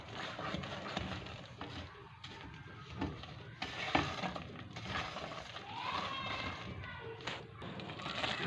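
Freshly roasted chana dal panjiri is stirred in a pan with the heat off, giving a soft, continuous scraping and rustling with faint sizzling, and background voices murmur underneath.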